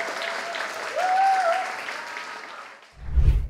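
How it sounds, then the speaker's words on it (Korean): An audience applauds at an outdoor starlight orchestra concert in Korea after a young performer's story, a fairly soft spread of clapping with a faint tone over it and a low thump near the end. "또 큰 박수 부탁드리겠습니다"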